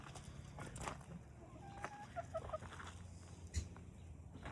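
A hen clucks a few times, faint and fairly distant, over a steady background hum at a backyard coop where the birds are exploring outside.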